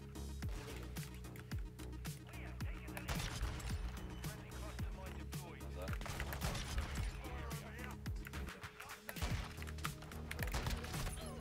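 Gunfire in the game Counter-Strike comes as repeated sharp shots with a sniper rifle, spaced irregularly over steady background game noise and clicking, fairly quiet overall.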